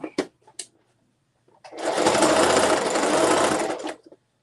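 A sewing machine runs a steady two-second burst stitching a half-inch seam on a zipper tote bag, loud and close, after a few brief soft knocks and handling sounds.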